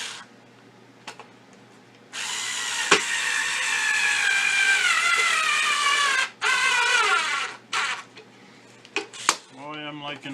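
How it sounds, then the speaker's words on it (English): Power drill driving a screw into an aluminum can on a homemade canjo, a steady whining drone lasting several seconds with short pauses and a brief restart near the end. "I'm going to go right ahead with this screw too."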